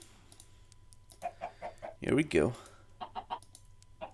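Short cluck-like calls from chickens in the Minecraft video game, repeating in a quick even rhythm at moderate level, with someone speaking over the middle and a few soft clicks.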